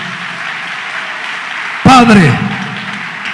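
A church congregation claps hands together, a steady, dense patter running throughout. A voice briefly calls out over it, and the clapping swells for a moment.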